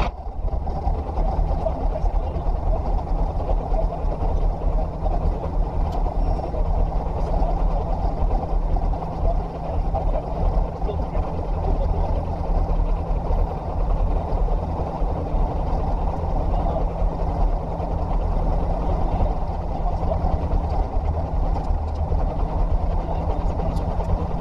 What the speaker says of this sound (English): Press that button and immediately the engine picks up.